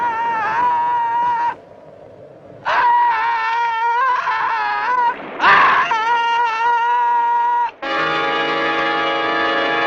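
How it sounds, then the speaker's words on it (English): Loud, anguished screaming and wailing from a man being eaten alive in the 1964 thriller film The Flesh-Eaters, coming in several long, strained bursts with brief gaps, ending in a sustained, piercing cry. "Listen to those screams."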